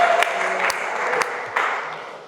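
Applause for a firefighter named Tian rises from a gathered crowd at a fire team event, a steady wash of clapping with a few sharper claps standing out, fading slightly toward the end.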